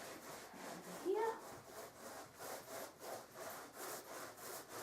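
A brush spreads gesso across a canvas in steady back-and-forth strokes, a soft rhythmic scratchy rubbing repeated about twice a second, close and fairly quiet.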